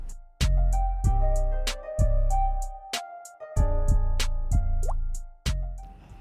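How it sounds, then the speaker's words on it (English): Rice water from a mason jar is strained through a strainer into a measuring cup, making a series of distinct drips and plops that ring with a hollow tone, spaced about a second apart and fairly close. "I'm going to strain the water from the rice."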